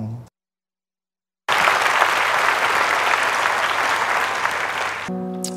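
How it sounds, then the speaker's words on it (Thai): After a brief silence, a large crowd at a stage event breaks into loud, sustained applause, a dense steady wash of many clapping hands that continues for several seconds before cutting to music. "เมื่อกี้ได้ยินเสียงคน ปรบมือแล้วก็ ดูครับว่ามีคนเยอะ"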